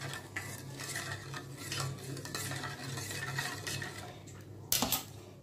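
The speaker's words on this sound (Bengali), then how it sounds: "এরপরে আমি মিশিয়ে দেবো এটা।" Jaggery being stirred into a mixture, with continuous scraping and clinking of a utensil against a pot, ending in a sharper metallic clatter near the end.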